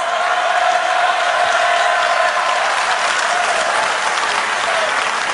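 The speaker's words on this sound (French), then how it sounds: "on peut les applaudir" A large audience at the Worldskills 2023 opening ceremony in Lyon applauding, dense, steady clapping that fills the hall at an even level throughout.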